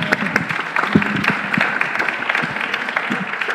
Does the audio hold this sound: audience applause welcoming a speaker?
yes